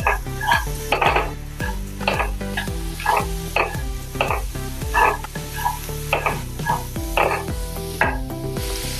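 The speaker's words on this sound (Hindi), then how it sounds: "और अभी इसमें हम गाजर डालेंगे। अच्छे से मैंने बारीक काट लिया है इसको।" Finely chopped carrots hiss and crackle in a pan for a hara bhara kabab mixture while a spoon stirs them in rhythmic strokes, scraping and clinking against the metal over and over.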